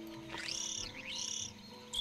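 A creature in the game Spore chirps in rising and falling whistled sweeps, one long warbling call followed by the start of another, clear and alone.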